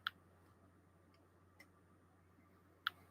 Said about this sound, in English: you can hopefully hear that ticking